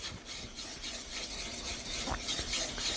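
A knife blade rubbed back and forth on a 6,000 grit sharpening stone makes a continuous close scraping rasp with gentle rhythmic strokes, alone without talk.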